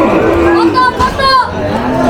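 A cow moos loudly amid the chatter of a busy cattle market, a drawn-out low call rising over nearby voices and crowd noise.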